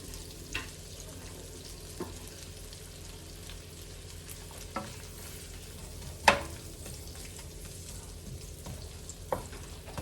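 Red onions go into a sizzling prawn stir-fry, a steady, fairly quiet frying hiss running throughout with a few sharp clicks and pops of utensils scattered over it, loudest clatter midway.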